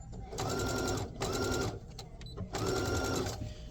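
A sewing machine stitches a fabric wine bag in three short, fast bursts of whirring needle rhythm, close and clear, separated by brief pauses.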